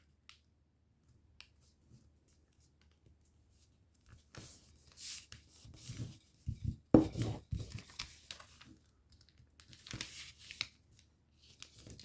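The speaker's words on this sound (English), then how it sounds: "turn the paper over and fold these edges into the center" Paper being creased and folded for an origami fighter jet: soft crinkles and sharp swishing snaps at close range, sparse at first, then a busier stretch of crackling folds and rubbing, otherwise quiet.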